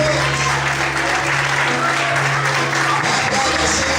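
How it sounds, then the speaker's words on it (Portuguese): A church congregation at an evening worship service claps loudly and continuously. Sustained musical tones play underneath, and a voice is faintly heard. "Se você crê, bate palma, glorifique agora o Senhor essa noite."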